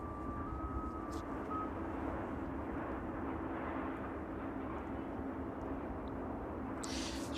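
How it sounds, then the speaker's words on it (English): A Beechcraft King Air taxiing toward runway 27 at East Midlands Airport on a chilly evening, a distant steady turboprop drone and airfield rumble, faint and continuous, with no talking. "That earlier inbound Beach King just making its way out towards runway 27 off camera."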